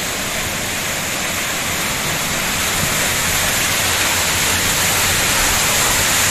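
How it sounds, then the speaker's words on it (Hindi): Water from Bagsu waterfall flows in a steady, loud, hissing rush, a broad continuous roar without breaks and with no voices. "ये रहा वाटरफॉल का पानी।"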